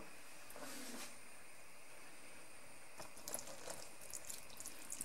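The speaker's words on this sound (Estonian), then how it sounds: "Ma kallan see vett juurde." Water is poured into a cooking pan while homemade blood sausages are being made, a quiet trickle and splash in two short bursts with soft clatter in between.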